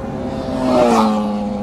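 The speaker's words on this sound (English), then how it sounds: "It was like high revving, really loud. It almost sounded like super bikes at first." High-revving motorcycles whine at a distance, swelling louder midway as the engine pitch climbs, then easing off slightly.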